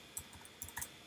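Plugin name typed into a WordPress search field on a computer keyboard: a few faint, quick key clicks in a short burst, close and quiet, no talking.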